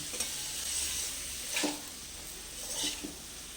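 Boiled peas with cauliflower sizzle and are stirred in a pan, a steady close frying hiss broken by a couple of louder scrapes of the spoon, with no talking.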